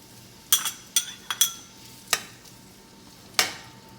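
Spam browning in preheated olive oil in a pan, with a faint steady sizzle under a handful of sharp utensil clinks and scrapes against the pan, spaced irregularly across a few seconds.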